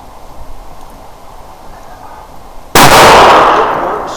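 A single loud 300 Blackout rifle shot outdoors in snow and wind, a sharp blast after a quiet windy stretch, followed by a long fading echo.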